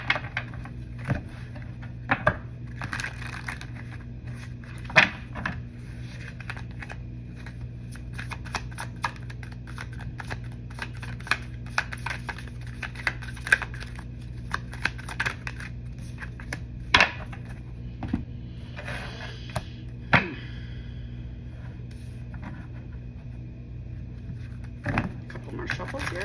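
Tarot cards are shuffled over and over, a soft steady riffling with sharper snaps and taps scattered throughout, heard alone with no talking.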